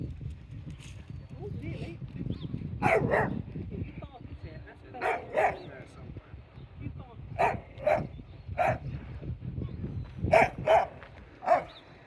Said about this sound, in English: he's safe and sound, just barking at the waves